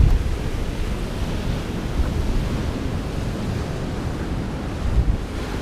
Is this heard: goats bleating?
no